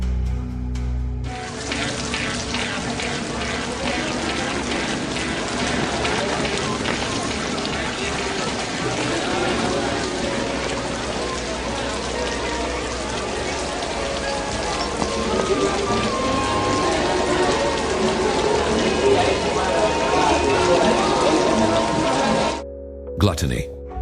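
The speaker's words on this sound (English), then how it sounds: "damned eternal rain, icy and heavy in monotonous rhythm precipitates." Heavy rain pours down steadily in a dense, unbroken hiss that fills the whole stretch, loud and close, with no breaks until it cuts off near the end.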